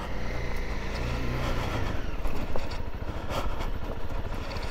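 A motorcycle rides along a road near a small cove outside İzmir, its engine running as a steady, fairly loud drone with a low rumble throughout and brief bumps in intensity.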